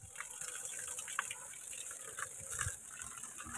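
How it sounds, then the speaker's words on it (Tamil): Water gushes steadily from a hose or tap onto garden plants, a faint continuous splashing hiss with no voices. "செடியில் தண்ணி ஊற்றிக்கிட்டு இருக்கேன்"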